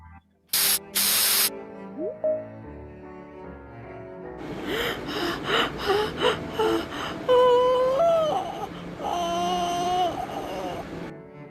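Pesticide spraying opens with a loud, hissing double blast of spray at close range, then gives way to gasps, snorts and whimpering, crying voices.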